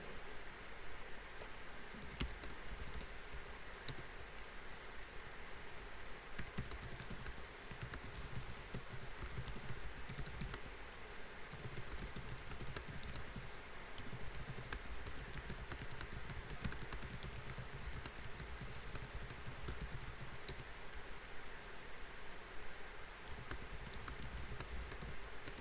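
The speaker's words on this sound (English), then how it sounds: "I'm typing" Rapid, irregular clicking of keys on a computer keyboard continues for the whole stretch, quiet and close, with no talking.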